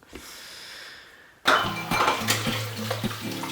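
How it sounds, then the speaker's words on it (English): Dishes being washed at a kitchen sink: after a quiet stretch of running water, a sudden clatter of pots, plates and cutlery clinking and knocking under the flowing tap. "But in quarantine, I have been washing dishes."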